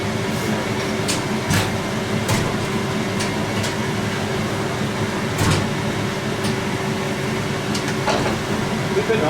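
A 1970s Indesit L8 washing machine with a 380 rpm spin, running its spin dry cycle with a loud, steady mechanical whirr and hum, broken by recurring knocks and clunks at irregular intervals.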